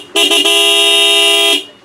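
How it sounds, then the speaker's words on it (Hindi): An aftermarket horn fitted to a Hero Xtreme 125R motorcycle gives a few quick stuttering toots, then one steady, loud, bright blast lasting over a second, heard alone and up close. "ये इसके हॉर्न है जो कि इसके अंदर इंस्टॉल कर देंगे।"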